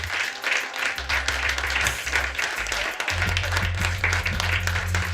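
Audience at a comedy show clapping for a comedian, a busy spread of hands applauding under a thumping low music beat, with some voices mixed into the crowd noise.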